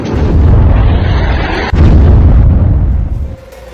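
Loud, continuous roaring blast from an army strike on a camp at Muridke, rumbling heavily for over three seconds with a brief break partway through, then cutting off.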